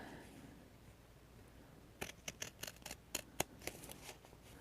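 Scissors cut through folded paper in a quick run of sharp, crisp snips, about a dozen close clicks spread over a couple of seconds after a quiet start, with no talking.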